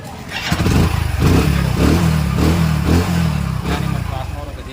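A motorcycle engine runs with a steady, throbbing low rumble, revving slightly in pulses, with a voice speaking over it.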